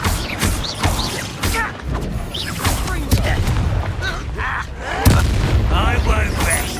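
A Confringo blasting spell in Hogwarts Legacy sets off several loud, close booms and crashes in quick succession amid chaotic combat effects, with voices shouting over the action.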